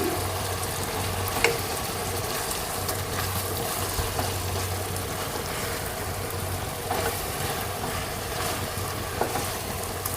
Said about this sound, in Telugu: వంకాయ ఆయిల్లో బాగా ఫ్రై అయితే కర్రీ బాగుంటుంది